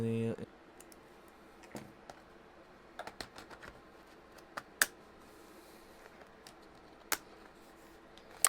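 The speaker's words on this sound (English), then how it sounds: "So I finally put the keyboard in, the RAM, the CPU, finally the back piece." Parts of a Lenovo T440p laptop being put back together, scattered sharp plastic clicks and snaps at irregular intervals, close and fairly faint against a quiet room.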